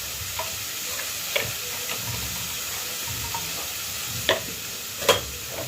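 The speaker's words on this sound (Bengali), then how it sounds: "মশলাটা একটু করে নেব। অল্প করে একটু ঘুরে দিয়ে দেবো।" Spice mix for homemade dalmut chatpati stirred and fried in a pan, a continuous close sizzle broken by a few scraping knocks from the spoon.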